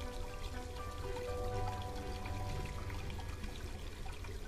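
Water runs steadily from a tap in the video game Black Mirror 2, a soft continuous pouring hiss with a faint low rumble beneath it, quiet and unbroken.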